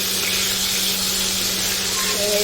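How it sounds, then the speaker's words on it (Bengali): Fish pieces fry one by one in a pan, giving a loud, steady sizzling hiss over a low hum, close and continuous throughout. "মাছগুলো আমি এইভাবে এক এক করে ভেজে নেবো"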